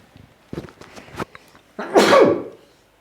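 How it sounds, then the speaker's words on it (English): A single loud sneeze bursts out near the end, preceded by a few quiet sniffs and small noises, then trails off. "I need to sneeze."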